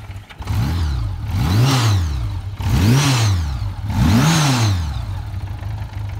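A 1982 Honda GL1100 Goldwing motorcycle engine catches and then revs three times in a row, each swell climbing and falling back to a smooth idle, loud and close with no talking.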